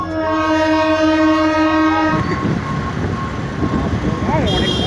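A train horn blares loudly and steadily near a railway line, cutting off after about two seconds as the train rumbles past, with a second short horn near the end and voices faintly under the noise.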